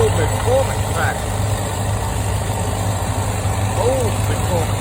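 An old McCormick tractor engine runs at a steady idle-like drone, loud and continuous, with someone talking over it throughout.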